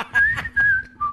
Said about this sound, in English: I just start whistling.